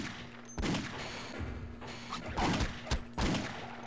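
Gunfire in Half-Life: Opposing Force comes as several bursts of rapid weapon shots and impacts over a steady backdrop of in-game ambience and music.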